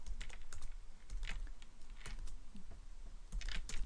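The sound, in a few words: typing on a computer keyboard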